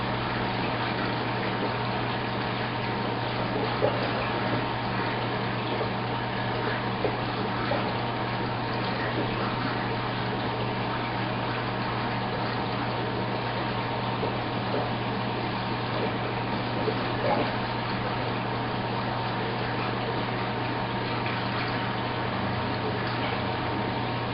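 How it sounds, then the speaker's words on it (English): Water runs and churns steadily in a 60-gallon reef aquarium while a vial is rinsed out, a constant close wash of flow with a low pump hum underneath and no talking. "I'm actually rinsing out the vial in my 60-gallon right now to give them some food as well."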